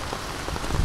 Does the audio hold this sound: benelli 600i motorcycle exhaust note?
no